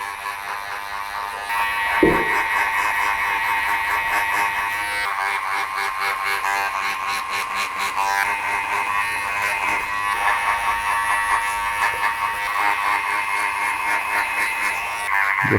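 Electric hair clippers with the lever open buzz steadily and loudly at close range while cutting short hair in a British barbershop, a continuous drone with slight shifts in tone as the blade passes over the head and no talking.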